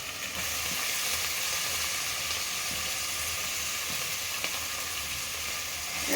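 Masala with fresh coriander and mint frying for chicken biryani gives a steady, close, unbroken sizzle, with a few faint stirring clicks under the even crackle.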